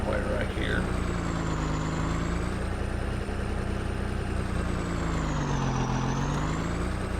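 A truck engine idling loudly in Farming Simulator 19, a steady droning rumble whose pitch rises and falls gently, with a brief voice near the start.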